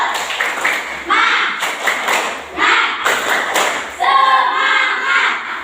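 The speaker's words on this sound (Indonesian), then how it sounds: "Baik, kita tepuk semangat dulu biar semangat." A classroom of schoolchildren does the rhythmic 'tepuk semangat' spirit clap: loud grouped bursts of clapping and thumps in short patterned phrases, mixed with the children chanting along, ending in a louder, longer burst.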